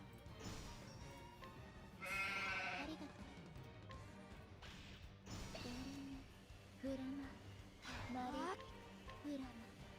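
Sheep bleating in the video game Live A Live, several separate wavering bleats spread across the stretch over game music and effects, with a voice speaking at points.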